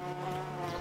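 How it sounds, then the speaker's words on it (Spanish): Bumblebees in the video game Backworlds give a steady, soft droning buzz with a clear tonal hum, heard alone and fairly quiet throughout. "¡Uy! Abejorros."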